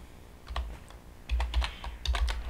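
Fingers tap on a computer keyboard in several short bursts of crisp clicks, close up, with brief pauses between groups of keystrokes and no talking.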